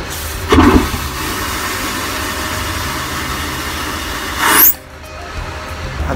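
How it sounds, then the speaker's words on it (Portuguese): An airplane toilet flushes in flight with a sudden loud roar and whoosh, sustained as a steady rushing hum before cutting off abruptly with a sharp suction. "o barulho da descarga é sinistro. Parece um avião decolando."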